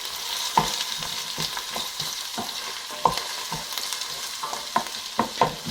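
Beef strips and onions frying in a pan, a continuous close sizzle broken by repeated sharp scrapes and clacks as a utensil stirs them.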